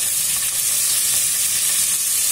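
Grated carrots sauté in oil in a pan, producing a steady, close hiss of sizzling that holds evenly throughout with no voices.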